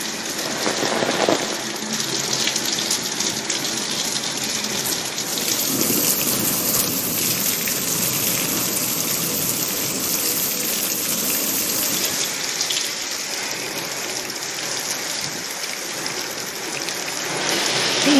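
Heavy rain pours steadily in South Bengal, a dense, even hiss of downpour on surfaces that continues unbroken, with a low rumble hinting at distant thunder.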